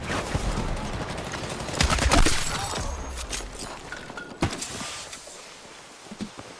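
A large-magazine machine gun fired in Battlefield 6, giving sharp, close bursts of shots with cracking impacts, loudest early on and then trailing into scattered single reports and quieter gaps.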